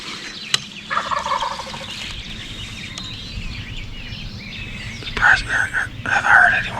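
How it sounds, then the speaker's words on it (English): Wild turkeys gobbling outdoors during an Iowa spring hunt, rattling calls bursting out near the end, moderately close, with quiet whispered talk in between. "Have I heard any more gobbling?"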